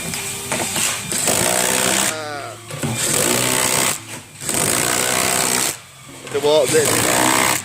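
A cordless Bluetooth impact wrench running in loud, rattling hammering bursts, several long runs separated by short gaps, close up, with someone talking between and over them.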